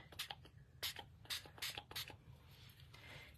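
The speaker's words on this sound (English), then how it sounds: "So I'm going to spray a little bit of that." Several short hissing bursts of oxide spray onto paper in quick succession, close by and fairly quiet, with a soft breathy rush near the end.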